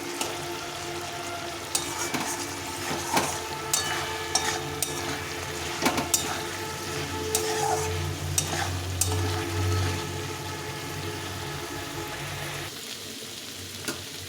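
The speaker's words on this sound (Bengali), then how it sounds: "এটাকে ভালো করে কষিয়ে নিতে হবে" Spice masala with kohlrabi sautéing in a pan for a kohlrabi curry, a steady sizzle with frequent spoon scrapes and stirring clatter, close and moderately loud, no talking.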